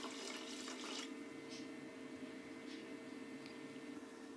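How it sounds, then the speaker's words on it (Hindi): Water poured into a pot of ghee and sugar to make sugar syrup for sweet zarda rice, a steady close hiss and trickle, louder at first and then easing into a continuous wash. "पानी भी शामिल कर दूँगी।"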